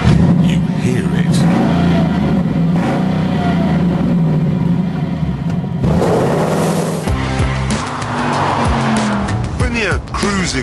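A loud Jaguar XK Convertible engine revs and roars continuously, rising and falling in pitch with bursts of acceleration, with a voice talking over it.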